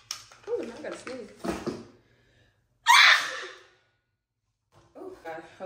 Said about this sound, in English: Oh, now I gotta sneeze.